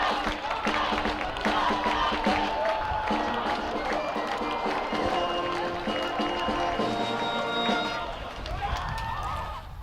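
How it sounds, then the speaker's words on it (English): A homecoming college football crowd in a stadium cheers and roars continuously, with a dense wash of voices and applause while an announcer talks over the top. "that brings the homecoming crowd to their feet"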